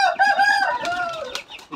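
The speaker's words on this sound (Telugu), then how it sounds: "కోడిని వదిలిపెడుతున్నాడు ఇప్పుడు" A chicken clucks loudly and close, with a rising, drawn-out squawk as it is let go, followed by a couple of sharp shorter calls, no talking.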